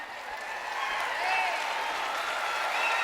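Audience applause for a singer at a live concert, a steady wash of clapping filling the room throughout, with a few whistles or voices rising above it.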